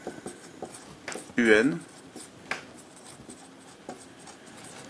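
Chalk or a marker scratches across a board as a lecturer writes during a maths lesson, giving faint scratching strokes under and between the lecturer's speech.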